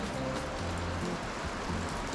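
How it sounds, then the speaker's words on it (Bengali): Heavy rain at a homestay in Zuluk, Sikkim, a dense continuous patter and wash close by, steady for a couple of seconds with no voices. "খুব জোরে বৃষ্টি পড়ছে"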